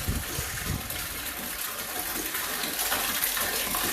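A pump pushes well water into an RV tank at about 3.5 to 4 gallons a minute. The flow makes a steady, close gushing and splashing rush that never pauses.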